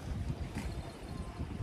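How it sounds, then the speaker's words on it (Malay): Strong wind buffets the microphone at sea by a kelong fishing platform off Banting and Sabak Bernam, a steady low roaring rumble with gusty swells and no voices. "Angin kuat."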